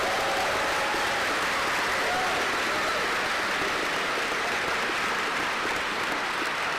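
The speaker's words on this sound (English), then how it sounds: "a quick round of applause for last round of applause" Applause from a crowd of seniors at an aviation academy gathering, a loud sustained wash of clapping that stays level throughout, with faint cheering voices mixed in.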